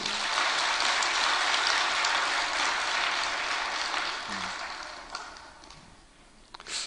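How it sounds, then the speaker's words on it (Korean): A church congregation claps for its children, a full burst of many hands that holds steady, then thins and fades into scattered claps near the end. "아이들 위해서 박수 한번 쳐줘요."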